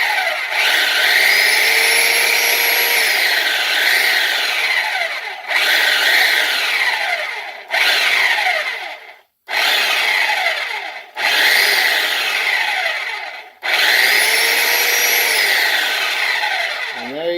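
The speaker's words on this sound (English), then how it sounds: "Alright, so on this belt sander, it should be, so it's off a little bit." A belt sander grinds against wood in several loud bursts, each a steady whining abrasive roar that cuts off briefly between passes.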